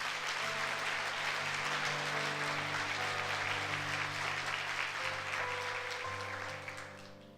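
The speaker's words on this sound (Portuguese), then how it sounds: "Então dê um aplauso ao Senhor Jesus." A church congregation at a Sunday service applauds, with broad clapping heard at a moderate distance over sustained organ or keyboard tones that shift pitch, and the clapping fades near the end.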